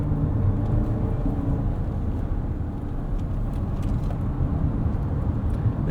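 A 2024 Lexus TX 500h F Sport hybrid SUV cruising on an open road in normal mode, with a steady low road and tire rumble and a muted drivetrain hum heard from inside the cabin, loud and continuous with no talking.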